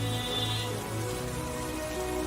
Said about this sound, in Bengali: বাইরে তখন ভীষণ ঝড় বৃষ্টি পড়তে শুরু করেছে